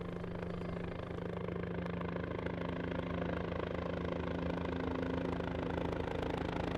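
Helicopter departing Upper Mustang, a steady dense rotor and engine drone heard throughout, even and unbroken with no voices.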